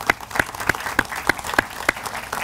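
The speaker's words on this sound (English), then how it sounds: "I'd like to give them a round of applause" Applause at a community college building dedication and ribbon cutting, with a few distinct, evenly spaced claps standing out over a thin crowd bed, fairly close and moderately loud.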